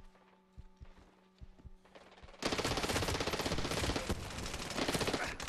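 Rapid automatic gunfire in the video game Medal of Honor Warfighter, a sudden loud burst of dense shots after a few quieter isolated pops and thuds, continuing as sustained close fire.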